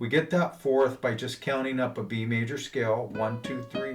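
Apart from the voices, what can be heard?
No distinct noise like a dog, phone or traffic.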